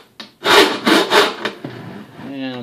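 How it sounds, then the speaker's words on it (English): Coarse wood rasp filing the aluminum dome of an R2-D2 build, several rough scraping strokes in a steady back-and-forth rhythm, close and loud, tailing off into lighter rubbing. "This is an actual wood rasp is what this is. But it works great on aluminum."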